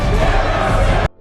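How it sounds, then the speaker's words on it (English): A crowd of residents cheers a man's name in a loud, dense roar of many voices that holds steady, then cuts off abruptly at the end. "all begin to cheer his name."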